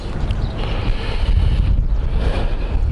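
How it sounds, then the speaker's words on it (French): Heavy, steady wind buffeting the microphone near Semnoz during a KTM 1290 Super Adventure S ride, with a low, rumbling roar that never lets up, no voices. "il y a du vent"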